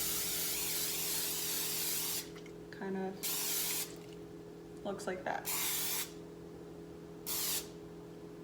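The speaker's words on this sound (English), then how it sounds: "so I'm gonna spray the pan." Several bursts of cooking spray hiss in short blasts onto a muffin pan with brief pauses between, while a person speaks quietly in the gaps.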